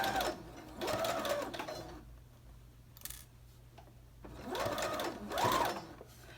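A home sewing machine bastes a coat belt loop in short close bursts of rapid whirring stitching, pausing between runs, with a brief click in the quiet gap.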